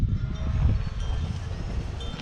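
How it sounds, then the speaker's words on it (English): Steady low rumbling wind buffets the microphone, a constant blustery roar with no other clear sounds. "Once again, I'm so sorry for the wind."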